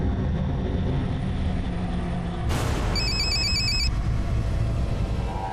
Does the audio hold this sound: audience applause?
no